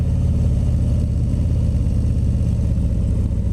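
A 2019 Harley-Davidson CVO Road Glide FLTRXSE V-twin is held low in the clutch friction zone during a slow ride, giving a loud, steady, deep rumble with even low pulsing.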